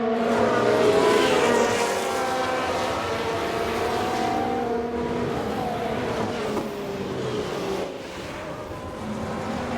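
A Ferrari Formula 1 race car engine in F1 Manager 22, a high sustained whine with shifting pitch as it passes at speed, loud and continuous with no talking.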